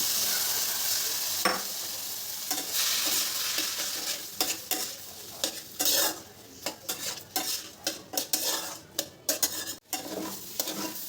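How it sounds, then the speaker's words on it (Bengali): Washed Gobindobhog rice and lentils fry with tomato in a hot pan for vegetarian khichuri, a steady sizzle under repeated scraping stirs and sharp clinks of a spoon against metal, close and fairly loud, with no talking. "চাল আর ডালটা দেখো অনেকটাই ভাজা হয়ে এসছে।"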